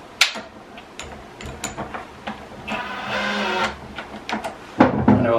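A cordless power driver drives short screws into Blum drawer fittings on a cabinet drawer front. A brief, close motor whir rises and stops between sharp clicks and knocks.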